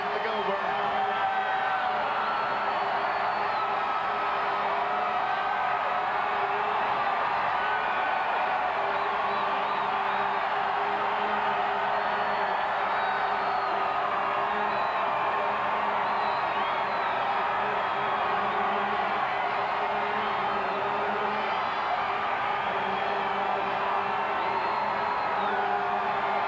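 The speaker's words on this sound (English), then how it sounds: "Just listen to this crowd" A huge New Year's Eve crowd in Times Square in 1988 roars and cheers, a dense, unbroken wash of voices and whoops carrying steadily throughout.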